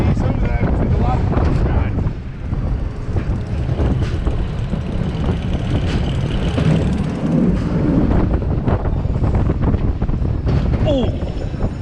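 Strong wind at a seaside amusement park roars and buffets the microphone continuously, a loud rumbling gust noise with faint voices underneath.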